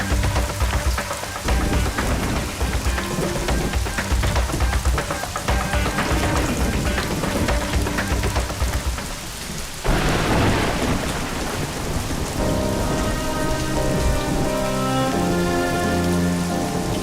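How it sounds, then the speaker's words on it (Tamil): Heavy rain pouring steadily with rumbling thunder, a dense loud wash of sound that carries on throughout, with dramatic music rising through it in the latter half and no talk. "மழை பெய்ய ஆரம்பிச்சிருச்சு."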